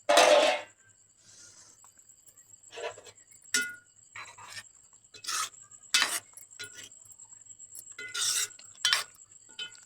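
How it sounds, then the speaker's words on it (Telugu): Spoon stirring tamarind curry in a metal pot in a village kitchen, with scattered scrapes and light clinks in short irregular bursts after one louder clatter at the start, faint and close, no talking. "అటు ఇటు కలుపుతున్నానండి."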